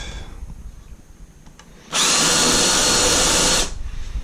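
Power drill with a countersink bit boring a screw hole in wood, a single loud, close high whine lasting under two seconds after a quiet lead-in with small handling clicks.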